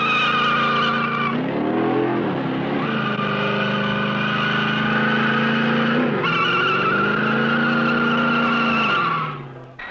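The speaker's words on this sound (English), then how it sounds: "Now, a punishing test of transmission and drive components, the rock cycle. A real torture test." A 1966 experimental vehicle grinds over a rock cycle torture test track that punishes its transmission and drive components; a loud continuous engine drone rises and falls in pitch with strain and tire noise, fading at the end, with no talk.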